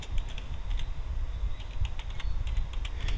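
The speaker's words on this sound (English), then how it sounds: "You type that in, you hit enter" Rapid keystrokes on a computer keyboard typing a search, close and steady clicking over a low room hum, with a final key press to enter it.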